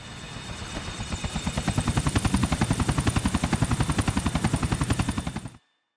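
A helicopter in the video game GTA IV chops steadily with fast, even rotor thumps that swell up loud and close, then cut off abruptly into silence, with no voices.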